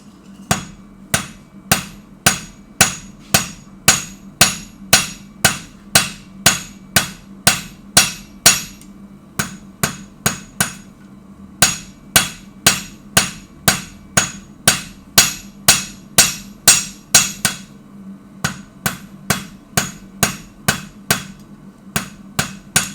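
Hammer striking hot steel on the edge of an anvil while forging tongs, a long run of loud, close, ringing blows in a steady rhythm, with a few brief pauses between series.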